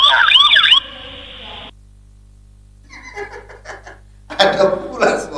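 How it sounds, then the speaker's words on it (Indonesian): A wailing siren sweeps up and down briefly, then cuts off; after a silent pause, people talk and laugh nearby. "Sirene polisi."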